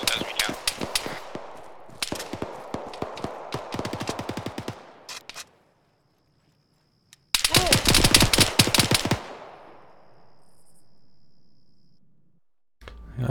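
Bursts of automatic gunfire in a military shooter game, rapid close rattling volleys in several long strings separated by short gaps and a stretch of near silence, with distant low rumble between bursts.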